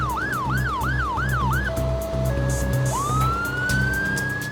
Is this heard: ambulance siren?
yes